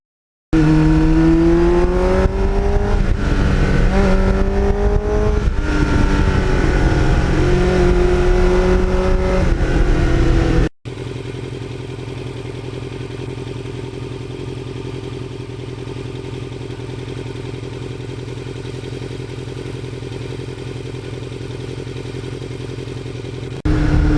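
A 1989 Kawasaki GPX750R motorcycle fitted with a Muzzy muffler revving loudly up close, rising and falling engine tones for several seconds, then settling into a steady droning run at lower pitch.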